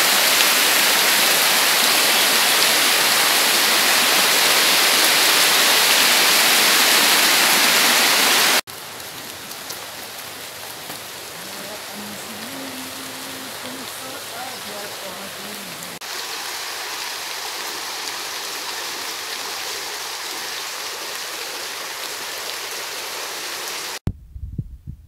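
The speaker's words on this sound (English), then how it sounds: "there's another river" A river in a Paite village in Karbi Anglong rushes as a steady, loud broadband wash at first, then continues at a lower level with a faint tonal hum mid-way, ending abruptly.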